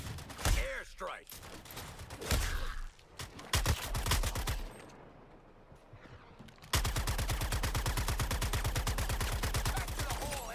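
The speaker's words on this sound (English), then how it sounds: "Airstrike." An airstrike pounds the area in Suicide Squad: Kill the Justice League, loud, rapid rhythmic blasts hammering in dense bursts, a short lull, then a long steady barrage of repeated impacts.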